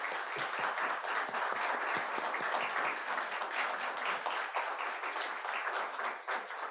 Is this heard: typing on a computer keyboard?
no